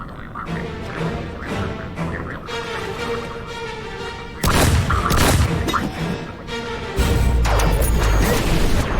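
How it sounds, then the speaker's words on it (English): A laser missile launcher firing as a special effect in the Tales of Valhalla series: heavy booming blasts that hit hard around the middle and again near the end, over a busy, layered soundtrack. "I love that missile launcher. Or I would say laser missile launcher."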